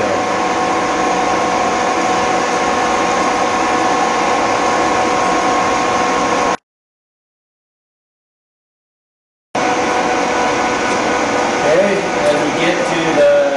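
A machine tool cuts a one-inch recess diameter, giving a loud, steady droning hum with tonal whine. It drops to silence for about three seconds, then resumes, with someone talking over it.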